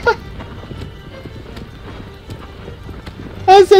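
Horse hooves in the Shadow of the Colossus video game, a rapid steady clip-clop of galloping running throughout, with a sudden louder whinny-like burst near the end.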